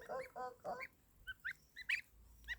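Goslings and adult geese on grass honk and call in a run of about eight short, uneven notes, close by and moderately loud, with no voices.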